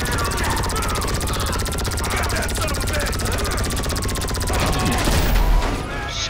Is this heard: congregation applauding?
no